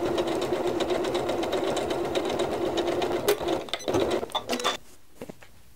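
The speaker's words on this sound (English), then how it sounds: "let's go back to the sewing machine and" Sewing machine stitching binding onto a quilt, a steady rapid whirring hum that runs continuously, then breaks into a few short stop-start bursts before falling quiet, close and alone.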